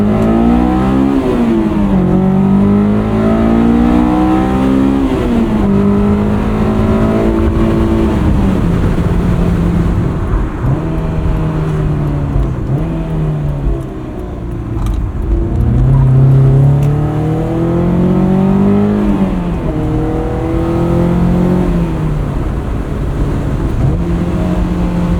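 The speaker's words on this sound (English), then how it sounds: "This is starting to drive like my dream S2000." A 2001 Honda S2000 on Fortune Auto 510 coilovers and Continental ExtremeContact Sport 02 tires drives on the street, its engine note rising and falling through repeated accelerations and gear changes. The sound is loud and close, with steady road noise underneath.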